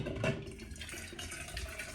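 Water pours into a pot for cooking rice, a faint, continuous splashing trickle heard alone in a quiet room.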